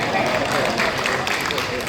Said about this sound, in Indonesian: Tepuk tangannya jangan setengah-setengah